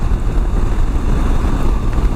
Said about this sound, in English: It's still pretty windy though